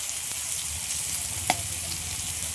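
Spices with chili powder and chopped tomato fry in a pan with a steady, close sizzle throughout, and one sharp clink of a utensil partway through.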